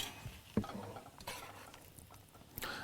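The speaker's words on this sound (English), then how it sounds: "So we're just going to stir these around." Tongs stirring marinating yabbies in a bowl, a few soft clinks and wet shuffles spaced out over quiet background, faint and close.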